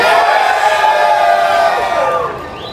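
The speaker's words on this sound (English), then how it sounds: "By cheers and claps, we will see who's more popular." A crowd at a comic convention cheers and hollers loudly in a sustained burst of shouting voices that fades out after a couple of seconds.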